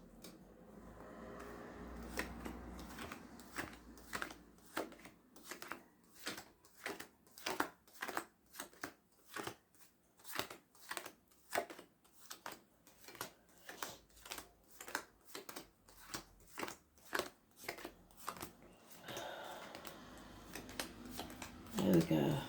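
Tarot cards are shuffled by hand in a long series of crisp, evenly spaced riffles and snaps, close and fairly quiet, with soft low rustling between them.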